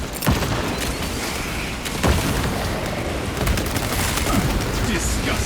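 Grenade blasts and gunfire from the Warhammer 40000: Space Marine 2 shooter sound as several sharp bursts and booms over dense, continuous battle noise, with some voices in the mix.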